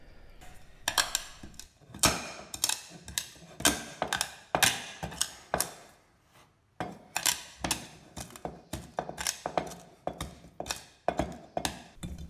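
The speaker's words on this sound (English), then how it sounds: "it's time now to crush the black peppercorn" Black peppercorns crushed under the bottom of a pot, a rapid series of sharp, gritty cracks and scrapes close up, grinding on steadily with one brief pause midway.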